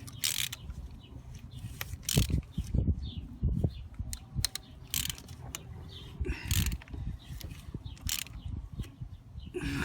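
Clicking ratchet and metallic clanks as a part is tightened during an oil change on a BMW 535i, irregular close mechanical knocks and taps with a faint background hum.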